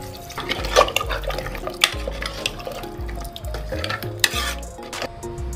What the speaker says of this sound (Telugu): తగినంత వాటర్ పోసుకోవాలండి